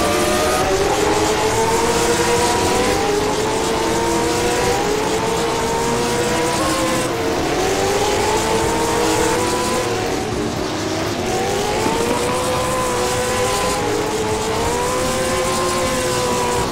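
Late model race cars roar together in a racing video game, engines droning loud and continuous with rising and falling pitch as they shift and lap.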